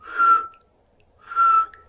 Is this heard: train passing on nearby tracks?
no